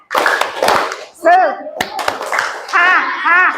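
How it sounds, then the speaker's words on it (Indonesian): A group in a university classroom performs a rhythmic spirit clap, sharp bursts of hand claps in short patterns, alternating with voices chanting and calling out together nearby. "Yuk, sama-sama kita lakukan tepuk semangat."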